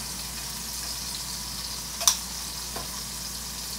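Steaks fry in a pan with a steady, moderate sizzling hiss close by, and a couple of brief louder pops and crackles break through it.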